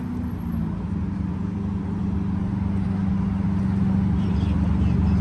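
A car pulls away from a car meet with a steady, loud engine drone that builds slightly as it goes, with no talking over it.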